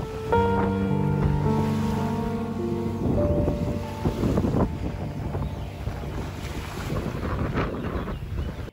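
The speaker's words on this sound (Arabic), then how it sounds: "شاطئ رملي وفيه موج خفيف كده" Gentle waves wash onto a sandy hotel beach in Hurghada, a continuous surf rush heavily buffeted by wind against the microphone, with brief sustained tonal sounds near the start and no talking.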